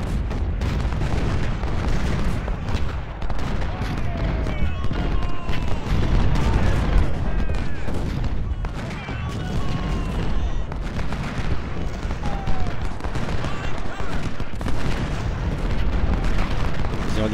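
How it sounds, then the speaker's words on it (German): Cannons fire in a Civil War battle game, dense booms and gunfire rolling continuously and loudly through the whole stretch with no pause. "die Kanonen laufen, das gefällt mir"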